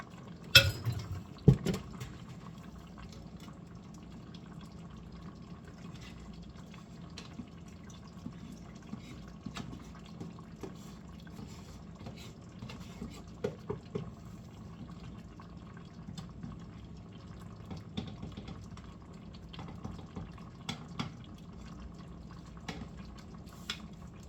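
Liquid from beef barley soup being strained off into a pot, a faint steady trickle with scattered drips and light clinks of metal cookware throughout.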